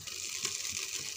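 Water pours in a steady gush from a glass into a pot of rice for pulao, a short continuous splashing stream with no voices.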